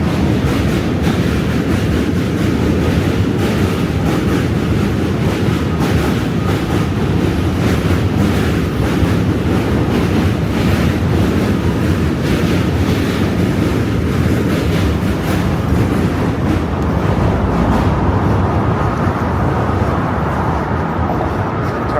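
A train rumbles past continuously in Manhattan, New York City, loud and close, with a steady roar and faint rhythmic clatter throughout.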